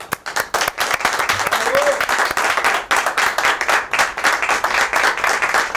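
Hearty audience applause for the band at a Los Olvidados show, loud continuous clapping with crowd noise and a voice briefly under it.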